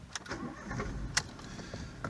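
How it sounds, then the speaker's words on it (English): A used car's engine cranks and catches inside the cabin, with a rough, mid-level mechanical churn and a few small clicks, fairly faint overall. "So we're going to start the engine up."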